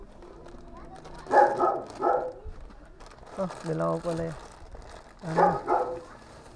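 A large dog barks a few times in short bursts, close by, while a person talks over it.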